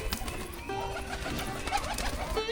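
Pigeons cooing softly on a rooftop garden, with several low, rolling coos repeating over a faint outdoor background; no talking.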